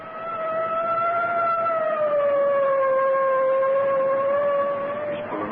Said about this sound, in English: I guess it's time to sound the siren.